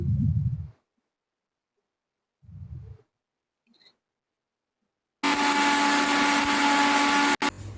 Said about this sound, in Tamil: நம்ம இப்போ இதை வந்து மிக்சி ஜாருக்கு மாற்றி அரைச்சி எடுத்துடலாம்